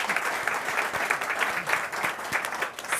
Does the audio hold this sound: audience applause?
yes